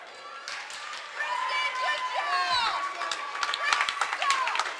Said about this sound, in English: the crowd here giving her a nice round of applause